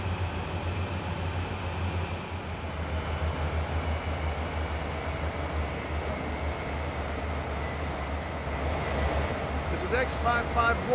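A freight locomotive in Train Sim World 2020 rumbles steadily as it hauls its consist, a constant low engine drone with rolling wheel noise and a brief brighter clatter near the end.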